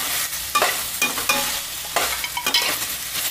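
Chilli potatoes sautéing in a pan over a medium-low flame, a steady sizzle broken by repeated close scraping stirs at an uneven rhythm, with no talking.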